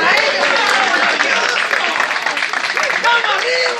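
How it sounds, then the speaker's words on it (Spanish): Applause and cheering for performers at an end-of-course humor show, clapping mixed with loud shouting and excited voices from a lively crowd, continuous and close. "¡Dónde está el aplauso para ellos!"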